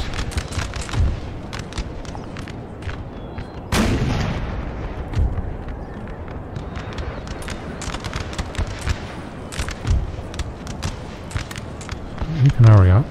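Battle in Napoleon: Total War, with musket volleys and booming artillery cracking at irregular intervals, some near and loud, others distant, over a steady battlefield rumble while someone talks throughout.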